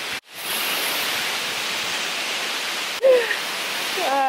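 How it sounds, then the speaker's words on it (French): A waterfall in Chapada Diamantina, Brazil, gives a steady broadband rush of falling water that is loud and continuous, with brief voices cutting in near the end. "Vous voyez les cascades derrière moi."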